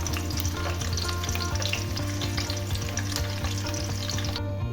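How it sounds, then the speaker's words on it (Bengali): Six eggs fry together in hot oil in a pan, a dense, steady sizzle and crackle that stays loud and close for the whole stretch, with light stirring scrapes and no talk. "এবারে ডিমগুলোকে আগে ভেজে নেব, হালকা করে ভাজবো।"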